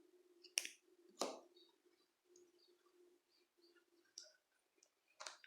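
Scissors snip through yarn while an amigurumi Easter bunny is finished, giving a few sharp, close clicks and snips spaced over a soft, quiet background.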